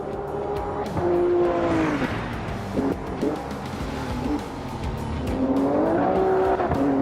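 A prototype race car in an IMSA series round of the sim racing game Automobilista 2, engine revving up and down through gear changes with tire squeal, steady and close, no talk.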